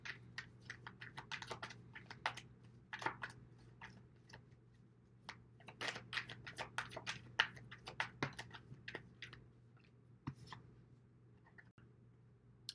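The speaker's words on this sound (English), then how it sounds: "Let's keep shuffling." Rapid irregular papery clicks and riffles of tarot cards being shuffled, close and crisp, in uneven bursts over a faint steady hum.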